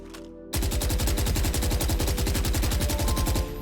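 Phantom rifle in the game Valorant sprayed in one continuous full-auto burst of rapid, evenly spaced shots lasting about three seconds, loud and close.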